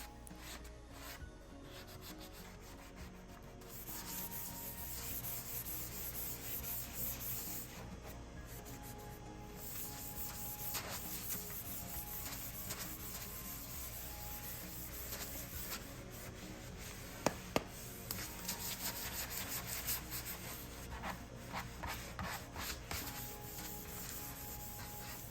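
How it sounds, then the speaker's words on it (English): Hand sanding laminate furniture with a small sanding block: a steady, continuous rasping rub that runs close and fairly loud for the whole stretch, with no voices. "I tend to lean on hand sanding just because I can use a little sanding block"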